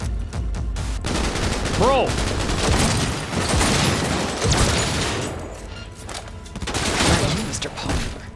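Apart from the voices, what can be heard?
gunfire in video game Cyberpunk 2077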